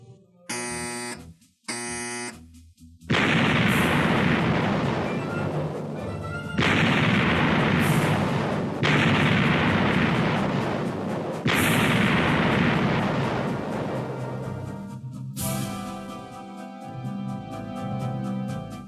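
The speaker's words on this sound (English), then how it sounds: "Turret 1, all guns, 1 round load. Shoot!" Iowa-class battleship turret guns fire in several heavy booming salvos, each a loud blast with a long rumbling decay, some overlapping, after brief alarm buzzes at the start.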